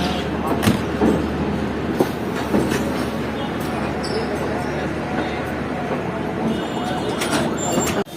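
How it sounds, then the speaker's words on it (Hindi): Train pulling into a platform at Karachi Cantt railway station at night, a steady rumbling roar with clattering wheels and metallic knocks throughout, voices faintly audible beneath. "तो कराची कैंट रेलवे स्टेशन के प्लेटफॉर्म नंबर 1 पर अप्रोच कर रही है सर ट्रेन।"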